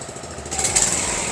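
A Cukusin 4-stroke 7.5 HP outboard motor idling with the propeller still, a steady buzzing engine drone that is close and fairly loud, with no voices over it.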